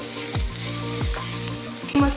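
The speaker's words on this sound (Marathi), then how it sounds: "धने टाकून घेऊया ते पण चांगलं परतून घ्यायचं आहे" Coriander seeds and masala sizzle as they are dry-roasted in a pan for hotel-style misal pav, with a steady close crackle and a few soft stirring scrapes.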